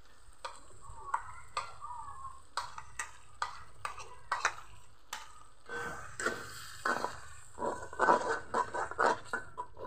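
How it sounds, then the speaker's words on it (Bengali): Ground spinach greens being stirred into spices in a pan, a quiet, irregular series of spoon scrapes and soft sizzling that swells toward the end. "মশলার সাথে ভালো করে মিশিয়ে নিব।"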